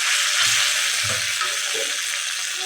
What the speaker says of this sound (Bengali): এখন পানি অ্যাড করে দিলাম।